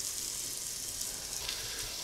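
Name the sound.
beef shank searing in hot oil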